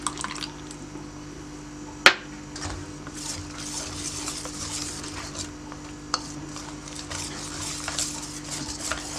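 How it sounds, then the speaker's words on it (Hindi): A paste being stirred with lemon juice for a moong dal fry, with soft, steady scraping and light clinks of a spoon against a bowl, one sharper knock near the start, continuing on its own without talk. "अच्छी तरह से आपने इसको मिक्स करना है ताकि इसमें लम्स वगैरह बाकी ना बचे"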